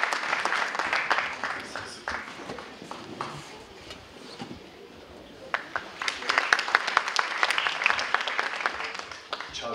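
An audience at a choir concert in Berlin claps in sustained, dense applause, dipping briefly midway and then swelling again with sharp individual claps, filling the hall without any talk.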